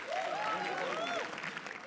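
Audience claps in a steady burst at a comedy roast battle show, and a voice talks loudly over the applause.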